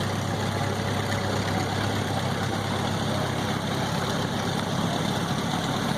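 A 1988 Gravely 1238H tractor engine runs steadily at a parade, a constant low rumbling drone with no change in pitch.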